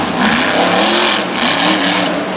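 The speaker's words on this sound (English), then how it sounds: "Man, I miss this awesome old Max D engine. Just listen to it." A Max D monster truck engine roars loud and close at a steady high pitch, sustained throughout with slight surges, heard alone without talk.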